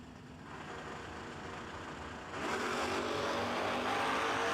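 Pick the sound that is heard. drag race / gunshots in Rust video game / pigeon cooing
drag race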